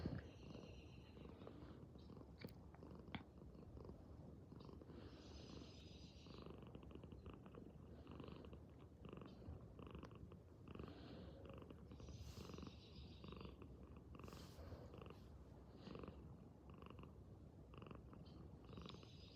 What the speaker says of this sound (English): she's purring because she's happy